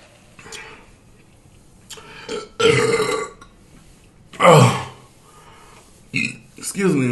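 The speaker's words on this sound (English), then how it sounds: "I need to belch so bad." A woman lets out several loud, deep burps from gas trapped in her chest while eating a Chick-fil-A meal, two long belches standing out among shorter ones, with quiet pauses between.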